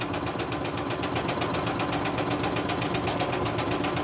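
A sewing machine stitches a lace journal cover in a fast, even, unbroken whirring hum, heard close and steady throughout.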